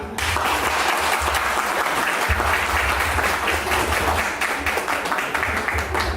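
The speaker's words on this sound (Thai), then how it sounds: "ขอเสียงปรบมือให้กับท่านนายกอีกครั้ง" Sustained applause from a large crowd at a music and charity party, loud and steady throughout, with dense clapping filling the whole stretch.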